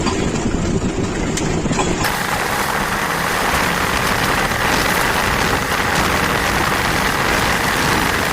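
A Ford 3000 tractor engine runs while driving downhill on a foggy road, a loud continuous rumbling drone with heavy broadband noise that grows denser after a brief quieter start, with no talk.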